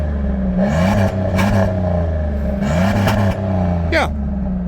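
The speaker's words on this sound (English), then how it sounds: "they put a more free-flowing exhaust system on it from the factory, and it sounds pretty good. It has a nice rasp to it for a V6." A Pontiac Bonneville SLE with a V6 and a free-flowing factory exhaust revs close by, its engine note rising and falling in repeated blips with a raspy edge over a steady idle rumble.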